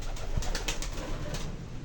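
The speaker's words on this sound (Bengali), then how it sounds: "আমাদের একটা কবুতর আর এদিকে আমার ফেভারিট কবুতরটা পাকিস্তানি" Pigeons coo softly at a pigeon farm, low throaty calls partly buried in a steady background hiss and noise.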